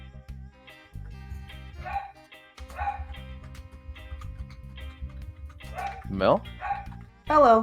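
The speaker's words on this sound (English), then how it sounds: "Sorry about my dog in the background." A pet dog yips and barks in the background in short high bursts, with a whimpering call near the end, under a person talking nearby and soft room hum.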